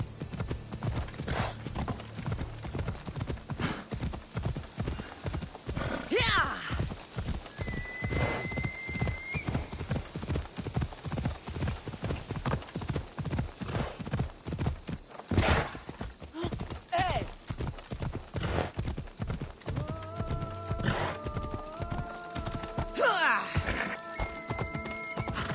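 Horse hooves clip-clopping at a steady fast gait in Assassin's Creed Odyssey, close and continuous, with brief whinnies and game voices and music layered over the rhythm.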